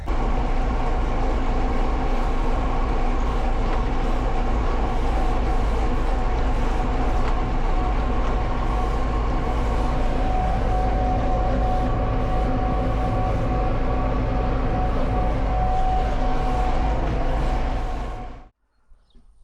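A tractor pulls a trailer fully loaded with dry winter barley on the way home, giving a loud, steady engine drone with rattling and rumbling that continues without a break before cutting off abruptly at the end.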